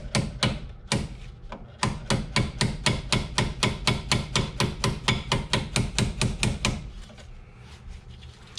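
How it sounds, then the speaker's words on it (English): Hammer tapping a brake pin clip into place on a 1980s-era BMW E21 320i during a rear disc brake job, a fast, steady series of sharp metallic taps, close and distinct, about two dozen strikes with a short pause early on. "I'm actually going to start tapping on it with the hammer while pressing down to keep it lined up."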